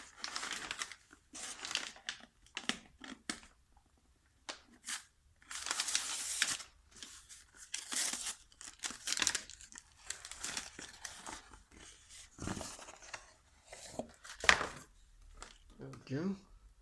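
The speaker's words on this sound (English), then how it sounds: "We just have to unwrap the carriage here." Packaging being unwrapped from a Monroe LA7-200 carriage, close crinkling and tearing of wrapping in irregular bursts, with short pauses and occasional sharp rustles.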